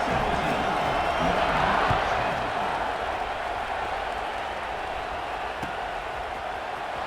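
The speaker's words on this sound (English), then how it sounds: "this crowd now ready to get behind them" A college football stadium crowd in a Michigan versus Wisconsin game roars and cheers as the kickoff approaches, a sustained dense wall of noise that swells early and then settles slightly.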